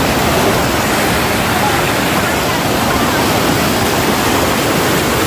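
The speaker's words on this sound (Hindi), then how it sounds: "बहुत तेज़ पानी का बहाव है।" Fast, flooded water of the Shivnath river rushing past, a loud, steady, broadband roar that fills the whole clip without pause.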